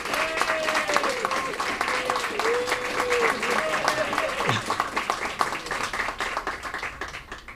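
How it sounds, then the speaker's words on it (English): An audience at a Mind Sports Olympiad event applauds with steady, dense clapping that carries on throughout, loud and close, with a few voices calling out underneath. "So a big round of applause to Mike Dixon."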